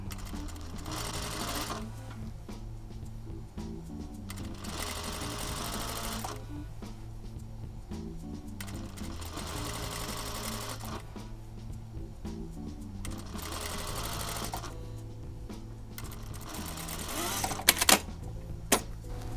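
A sewing machine runs continuously while stitching a rolled hem, its steady mechanical whir pausing briefly between bursts, with a few sharper clicks near the end and no talking.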